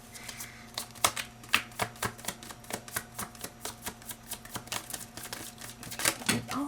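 Tarot cards shuffled by hand in a quiet room, a steady run of crisp riffling taps and soft slaps at an irregular rhythm, close and fairly faint, with no talking.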